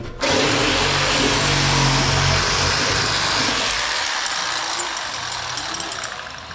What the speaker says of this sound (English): So let's get this exhaust cut off.